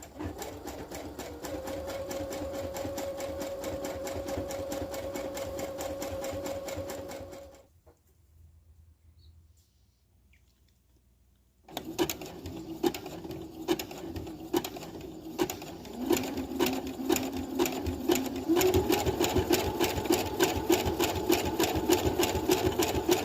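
A home sewing machine stitches a child's dress in steady whirring bursts, runs for several seconds, falls silent for a few seconds, then starts again with a fast, continuous mechanical hum.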